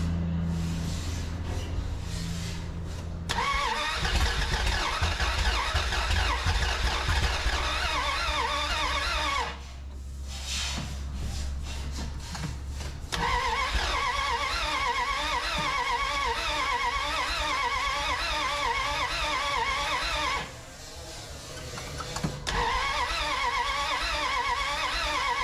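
A 1981 Dodge D150 engine cranks and catches, running roughly with popping and spitting bursts, cutting out and restarting twice; close and loud, with no talk.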